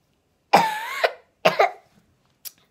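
Two harsh coughs close to the microphone, a short pause between them, followed by a faint throaty sound.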